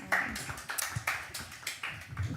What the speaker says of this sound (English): Let's give him a big virtual round of applause